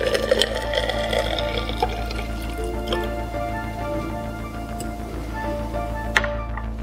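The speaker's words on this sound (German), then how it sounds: "Ein Reagenzglas mit seitlichem Ansatz wird mit Wasser gefüllt." Water pours into a glass test tube with a side arm, giving close trickling and dripping with rising ringing tones, then a short clink near the end.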